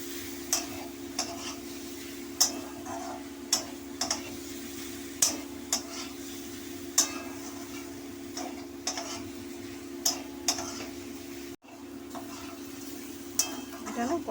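Soybean chunks stir-fried in a pan for a soybean curry: a steady soft sizzle with regular scraping and tapping strokes of a spatula, close and fairly quiet, with no talking.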